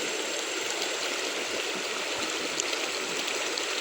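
River water flowing at the meeting point of two rivers near a bridge, a continuous broadband rush with no breaks, close and steady, no voices.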